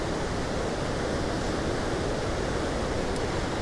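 The waterfall at Rhiwargor, Wales, runs in full flow, a loud, dense, unbroken roar of rushing water recorded close by, with no voices.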